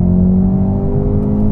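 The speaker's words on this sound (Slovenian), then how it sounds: "kako se športne note AMG-ev razlikujejo ena od druge, od enega do drugega avtomobila" Mercedes-AMG sports car engine at an AMG gathering, a deep, steady, close rumble with strong low tones holding a constant pitch, loud and alone.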